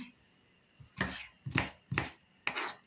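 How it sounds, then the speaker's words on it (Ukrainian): A knife chops an onion into small cubes on a board, five crisp, close strikes coming roughly every half second with quiet gaps between them. "Цибульку наріжу маленькими кубиками"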